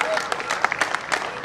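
Audience applause at a Hindi kavi sammelan poetry gathering, a brief burst of crowd clapping with scattered sharp claps and some overlapping voices or cheers.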